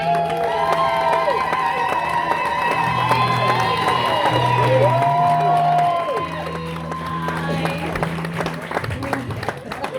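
A live audience claps and cheers as a performer walks onto a stage, a dense continuous wash of applause with whoops and shouts that stays loud for the whole stretch, easing slightly near the end.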